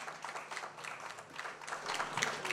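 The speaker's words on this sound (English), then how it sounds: "So give them a big round of applause." Faint, steady applause from an outdoor audience at a Samoa celebration of U.S. Independence, honouring a team dressed in red. A dense, even patter of many hands carries for a few seconds without a break.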